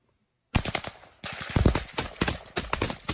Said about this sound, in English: We can now hear them getting engaged in a firefight with the Russians.